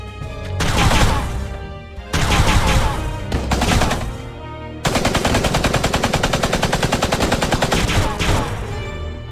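Heavy gunfire in a War of the Visions cutscene, with ragged bursts of overlapping shots followed by a long sustained machine-gun rattle of rapid, even reports, loud and close.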